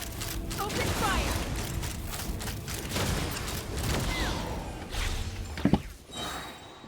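Rapid gunfire bursts from the Genshin Impact video game fire in a busy battle mix. The shots sit among whooshes and game effects, with a louder sharp burst near the end.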